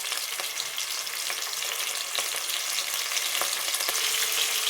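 Curry leaves, green chilies and onion fry in a pan for an Indian egg curry, giving a steady close sizzle with scattered crackles and a few soft stirring clicks throughout, with no talking.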